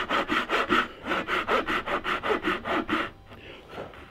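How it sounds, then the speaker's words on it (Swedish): A hand saw cuts down along marked lines in a piece of wood, with about a dozen quick, even rasping strokes close by, then the sawing stops and the sound fades. "då ska jag såga ner efter de strecken ner till"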